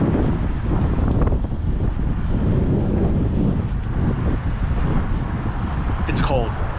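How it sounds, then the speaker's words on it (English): Strong wind blows outdoors on a cold day, a loud continuous rumbling buffet across the microphone that persists throughout, with a brief higher squeal near the end. "Yeah, it's windy, it's cold."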